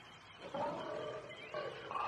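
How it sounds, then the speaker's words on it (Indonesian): A tiger roaring again as a drama sound effect, two drawn-out growling roars in close succession, fairly loud and near, with no voices. "Suara harimau itu kembali terdengar."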